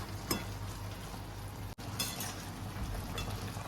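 Raw mango pieces cooking in a pan for a sweet-sour jaggery mango dish: a soft, steady sizzle and bubbling close by, with a few faint clinks and no talking.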